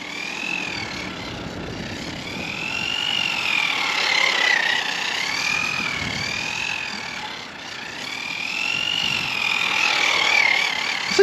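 A Team Losi NASCAR 1/12 scale AWD RC car drifts around a parking lot, its electric motor whining in rising and falling sweeps with tire scrub, loud and steady throughout with no talking.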